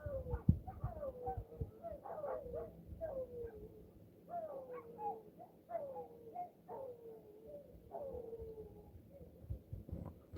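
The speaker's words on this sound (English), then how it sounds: "Whenever I hear dogs barking," Several dogs bark and yelp in repeated bursts, with howling, whining calls mixed in, moderately distant and irregular.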